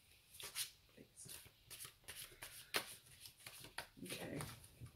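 Tarot cards being shuffled by hand in a run of crisp riffling and slapping bursts, close and fairly loud, with a person talking quietly in between.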